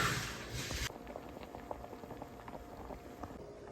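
Pasta water boils in a pot on the stove while crab and pappardelle pasta cooks, a steady close bubbling and popping patter with a brief louder hiss at the start.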